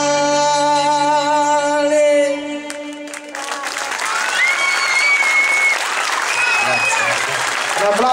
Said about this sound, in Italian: Un applauso anche per il nostro artista Remo